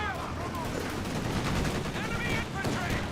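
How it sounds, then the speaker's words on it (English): MG34 machine gun firing in the WWII strategy game Company of Heroes 2, rapid bursts of gunfire rattling in the distance amid battle noise, fairly quiet in the mix. "And here the MG34 firing away somewhere."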